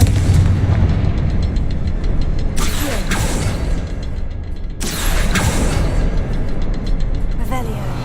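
Confringo spell blasts in the video game Hogwarts Legacy: two heavy, booming explosive bursts a couple of seconds apart that rise over a dense, continuous game soundtrack, with a voice speaking.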